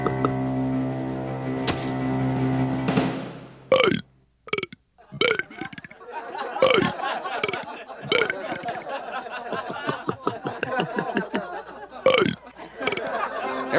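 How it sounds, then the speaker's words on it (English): A person burps out popular songs, long loud pitched belches broken into sung phrases, followed by quick burps in rhythm among laughter and voices, close and loud. "I'm gonna burp popular songs"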